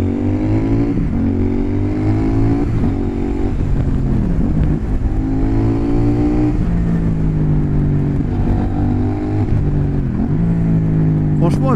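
A CF Moto 800 NK motorcycle engine revs hard, pitch sweeping upward through several gear changes, loud and close, with some speech heard under the engine noise.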